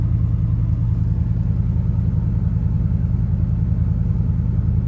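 A 2010 Ford F-150 SVT Raptor pickup engine runs at a steady, loud idle, a deep continuous rumble with no talking over it.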